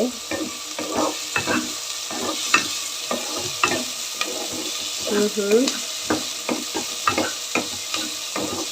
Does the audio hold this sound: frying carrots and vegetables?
yes